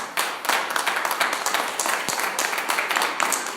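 A congregation claps in a church service, a dense, steady burst of many hands spread across the room, loud and continuous with no talking over it.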